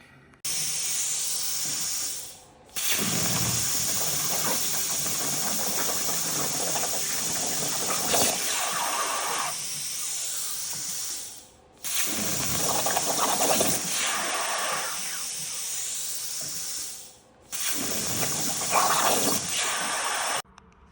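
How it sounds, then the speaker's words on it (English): Plasma cutter cutting 1/4-inch steel parts, a loud steady roaring hiss in three long passes, each starting and stopping abruptly with brief quiet gaps between, no talking. "I got all the parts cut on the plasma cutter, all 1/4-inch steel"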